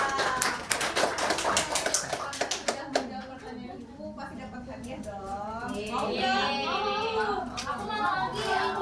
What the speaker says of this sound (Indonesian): terima kasih banget dong tepuk tangan buat teman kita